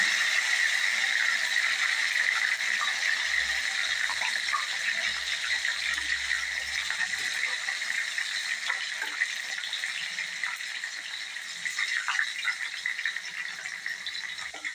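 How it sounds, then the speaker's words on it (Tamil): Okra frying in hot oil in a kadai, a steady close crackling sizzle that stays constant, with occasional small pops. "எண்ணெய் சூடானதும் அதில் வெண்டைக்காய் போட்டுக்கோங்க."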